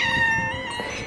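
A ragdoll cat meows in one drawn-out, wailing cry indoors, close and fairly loud, begging to be let outside.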